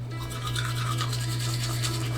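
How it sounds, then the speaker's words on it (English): An electric toothbrush hums steadily while brushing teeth, a close, continuous buzz with faint scrubbing texture and no pauses. "I use an electronic toothbrush because I heard it's better for your teeth"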